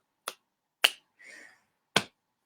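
Sharp, dry finger snaps spaced about half a second apart, four crisp clicks close to the listener in a quiet room, with a short faint rustle between them and no talking.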